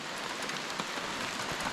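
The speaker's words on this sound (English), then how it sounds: "the sun probably made an attempt to rise, but the rain overcome it" Rain falls steadily on the Essequibo River in Guyana during a fishing trip, a dense, even patter of drops hissing on the water and nearby surfaces, with no one talking.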